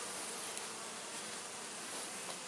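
Honeybees buzz around a hive during hive merging, a faint, steady, diffuse hum with no voices.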